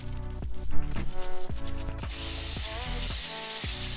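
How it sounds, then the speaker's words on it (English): Music plays first, then a loud continuous aerosol hiss of starting fluid sprayed onto a Honda Z50 motorcycle engine starts about halfway through and holds steady to the end. "we just spray it down with starting fluid"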